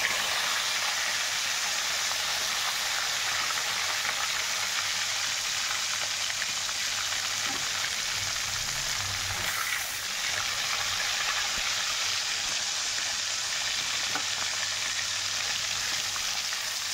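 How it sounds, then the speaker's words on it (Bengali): Pieces of katla fish fry in hot salted oil with a steady, even sizzle that holds at the same level throughout, no talking over it. "এবার মাছগুলো আমি ভেজে নেব।"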